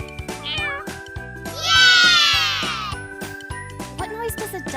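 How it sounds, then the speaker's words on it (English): A cat meows in a long, loud, drawn-out call during a toddler animal-sounds game, backed by light jingling music. "What noise does a cat make?"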